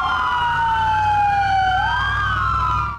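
An LAPD police car siren wails loud and close as the vehicle follows street protesters through city streets, its tone sweeping steadily up and down over road noise.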